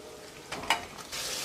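Quiet frying of marinated duck in a pan after ginger and garlic, a soft steady sizzle, a brief clink or stir near the middle, then the sizzle swells louder toward the end.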